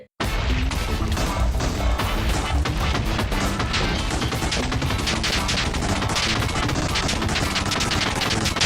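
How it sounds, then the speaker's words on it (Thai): Beds blowing up while mining through the Minecraft Nether, a dense, continuous barrage of loud crashing blasts and booms piling on top of each other with no pauses. "ขุดทางตรงยาวๆ แล้วก็เริ่มระเบิดกันเลย"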